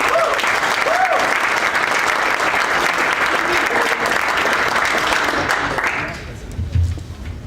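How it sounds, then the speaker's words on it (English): Audience at a technology workshop claps in a sustained, dense round of applause that stays loud for about six seconds before quickly fading, with a voice briefly heard at the end. "How about a round of applause for Danny?"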